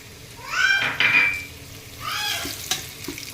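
Cumin seeds and bay leaves fry in a hot pan, giving two bursts of sizzling with rising, whistling hiss, close and moderately loud, separated by a quieter pause.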